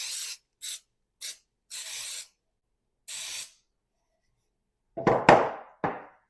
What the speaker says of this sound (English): Loaf pan. Good old baking spray.